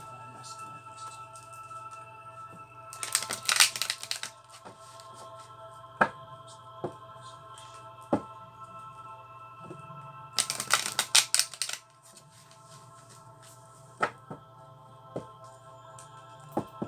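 A deck of oracle cards is shuffled and cut in two separate riffling bursts with scattered single clicks and taps between them, close against a faint steady hum.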